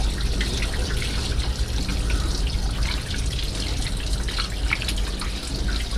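Running tap water pours continuously over pork fat being washed for fishing bait, a close, even splashing and trickling that lasts the whole stretch without pause.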